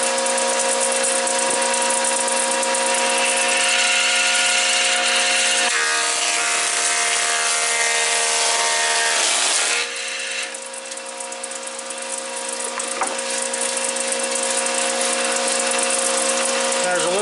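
A thickness planer feeds high-moisture wood through its cutterhead in a loud, steady machine roar that changes pitch partway through as the cut load shifts, continuing near and dominant.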